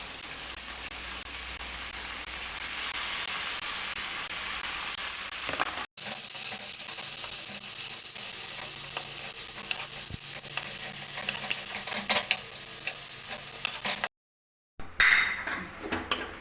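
Tomato and coriander stalks sauté in a pan for colour idli, giving a steady close sizzle with faint stirring clinks, broken by a brief drop-out near the middle and a short silence toward the end.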